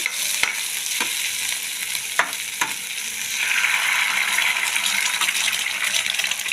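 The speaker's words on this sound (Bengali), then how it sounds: "ডিম দিয়ে ভালো করে ভেজে ডিমটাকে মাঝখানে দিয়ে দিচ্ছি" Eggs fry in a pan with ginger and garlic, giving a steady, bright sizzle with a few sharp clicks of a utensil early on. The sizzle grows louder and denser toward the end.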